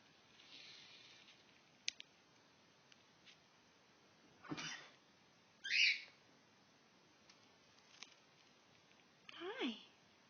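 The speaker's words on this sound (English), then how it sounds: "pretty bird" Pet bird calling indoors, a few short faint squawks and chirps scattered through quiet room noise, with a brief louder call near the middle.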